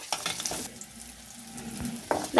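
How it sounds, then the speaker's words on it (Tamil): Chillies fry in a pan for onion chutney, a soft close sizzle under brief clinks and scrapes of stirring, fairly quiet and short. "இப்போ மிளகா போட்டுக்கலாம். அதையும் நல்லா வணக்கிக்கணும்."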